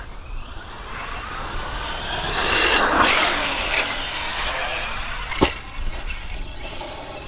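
An Arrma Fireteam 6s RC truck at full throttle, its motor whining up as it launches off a jump, followed by a sharp landing thud and rattling as it keeps driving outdoors.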